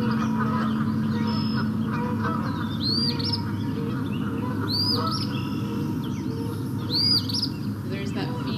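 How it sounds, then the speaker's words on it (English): Geese honk in the background of an outdoor birding recording, three clear rising calls spaced a couple of seconds apart over steady ambient noise and other faint birdsong. "There's some geese in the background that'll clear out."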